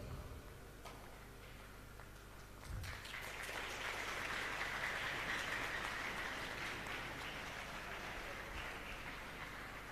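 Delegates at a UN Replica 2023 event break into sustained applause for a guest, a dense, steady patter of many hands swelling after a few sparse claps and continuing evenly throughout.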